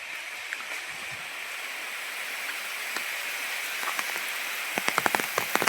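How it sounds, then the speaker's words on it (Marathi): Heavy rain approaches across rice paddy fields, a steady broad hiss of distant rainfall that grows slightly denser, with scattered nearby drops and taps toward the end. "पाऊस तिकडं जेव्हा येतो तेव्हा खूप जोरात आवाज येतो"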